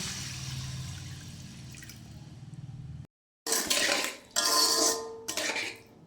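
A metal pot clatters and a lid clanks loudly in a few bursts as a potato and fish curry is covered to simmer, after a quieter stretch of soft kitchen noise and a moment of silence.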